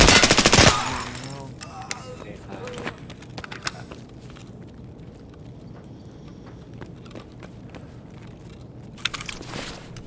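Gunfire in the shooter game Escape from Tarkov, a loud dense burst at the start, then scattered single shots and quieter movement noises over a low ambient bed.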